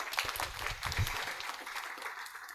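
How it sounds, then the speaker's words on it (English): An audience at a banking, finance and investment forum applauds a presenter, a steady patter of clapping that sounds distant and fairly faint. "Can we clap for her again?"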